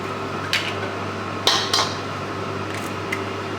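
Whole eggs cracked for an almond cream made with butter, sugar and ground almonds, heard as a few sharp taps and clinks at intervals against a steady low kitchen hum, with no talking.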